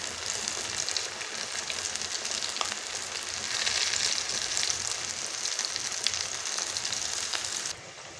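Small homemade chicken samosas frying in hot ghee give a steady, dense sizzle and crackle that holds close and even throughout, easing off slightly at the very end, with no voices.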